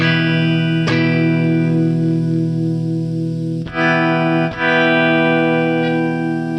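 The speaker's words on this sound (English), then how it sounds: "hyper volume swells made by the Xpick" Sustained, effects-heavy electric guitar chords played as volume swells with an Xpick device, fading in smoothly without a sharp pick attack, washed in chorus and reverb, with a few brief dips between swells.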